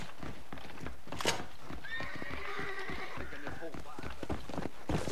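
A horse neighs in Red Dead Redemption, a drawn whinny over a short stretch amid steady game ambience, with someone talking over it.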